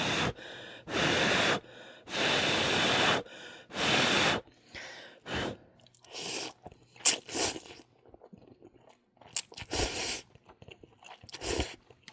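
Nongshim Shin Ramyun noodles are eaten close to the mic in several loud slurping, crunchy bursts, followed by quieter, scattered chewing and breathing noises. No one talks.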